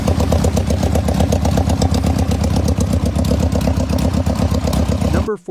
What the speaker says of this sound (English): Next is a 1972 Triumph Bonneville project, finished in Burgundy.